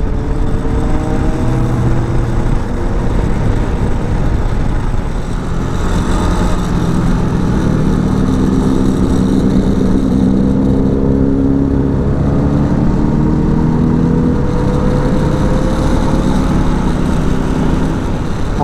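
A Suzuki Hayabusa motorcycle engine revs on a road ride, a loud steady exhaust roar with rising and falling pitch sweeps, running continuously with no breaks.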